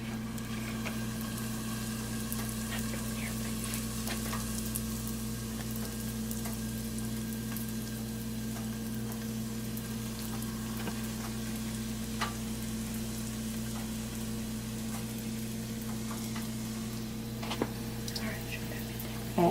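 Jamaican fried dumplings frying in oil in a big pot, a faint continuous sizzle over a steady low hum, with occasional soft clicks and a voice speaking now and then.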